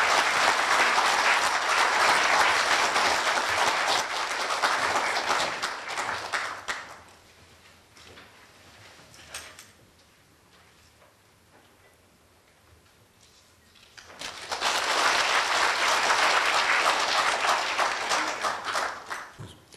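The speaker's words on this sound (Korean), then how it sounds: "여러분 큰 박수로 환영 부탁드립니다." An audience at a Korea University policy school lecture gives loud, sustained applause to welcome a speaker, fading into a quieter stretch before a second strong burst of clapping.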